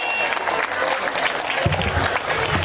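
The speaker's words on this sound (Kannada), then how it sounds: "ವಿಜಯ ಮ್ಯಾಮ್ಗೊಂದು ಜೋರಾದ ಚಪ್ಪಾಳೆ." A school annual day audience breaks into loud, sustained clapping for a teacher, filling the hall with a dense, even roar of hands.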